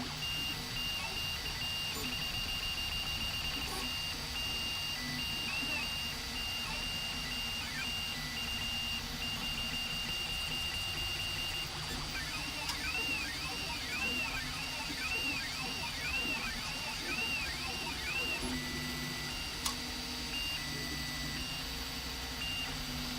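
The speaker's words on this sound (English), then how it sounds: "We are printing the Voron test cube, which is generally the first print that you do on a Voron" A Voron V0.1 3D printer prints a test cube, its stepper motors whining and chirping in steady tones and warbling sweeps over a constant fan hum, close and fairly quiet throughout.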